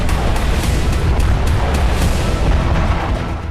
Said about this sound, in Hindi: यह फास्फोरस बम का धमाका था